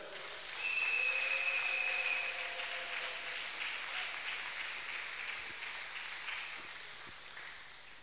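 A church congregation applauds to welcome a pastor, a steady, soft wash of clapping that swells early and then holds at a faint, even level with a thin whistle-like tone near the start.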